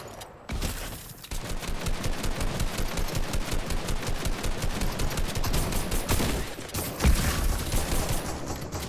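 Sustained rapid automatic assault rifle fire in Fortnite, a dense stream of shots with brief pauses, loud and close throughout.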